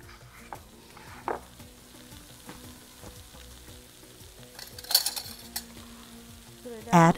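Onion sizzles in a pot for a beef tagine with eggplants and chickpeas, a soft steady crackle broken by occasional utensil clinks and stirring knocks.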